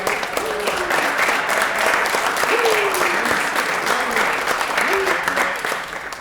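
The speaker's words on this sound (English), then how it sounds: "go ahead, clap" Audience at a Pittsburgh City Council meeting applauding a city league football championship team, with steady, dense clapping throughout and a few voices calling out over it.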